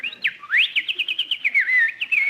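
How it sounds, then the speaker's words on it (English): A sparrow chirps close by and clearly, giving a fast series of bright, rising and falling tweets with a few longer whistled notes against a quiet background. "That sparrow must be building a nest."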